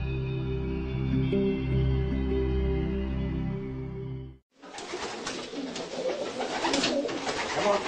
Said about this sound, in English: It's known by various names: messenger dove, homing pigeon, and racing pigeon.